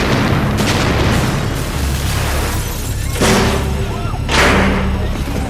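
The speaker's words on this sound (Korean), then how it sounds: "동시에 대폭발까지 일어나며" A huge explosion in a TV drama fire scene erupts as two heavy booming bursts over a dense, constant roar of fire noise, loud and close.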